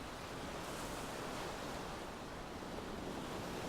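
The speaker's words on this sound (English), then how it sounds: "The waves are washing in, gently washing over the beach, and then flowing back out again." Ocean waves washing gently onto a beach at dusk, a continuous soft, broad wash of surf with steady rushing noise and no voices.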